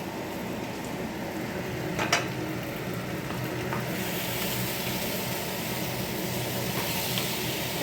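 Food fries in a pan for a home-cooked fish and egg meal, giving a continuous close sizzle with a few soft clicks and stirring touches. No one speaks.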